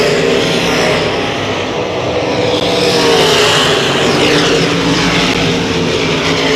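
Sprint cars roar around a dirt track during a feature race, a dense, steady engine drone that holds loud and close throughout with no gaps or voices.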